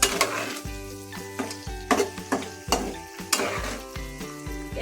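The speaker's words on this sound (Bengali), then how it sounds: "এবার আমি তেলের সঙ্গে ভালো করে মিশিয়ে নেব।" Ash gourd with mustard filling stirred in hot oil, a steady sizzle broken by repeated scraping strokes of a spoon against the pan, close and fairly loud with an irregular rhythm.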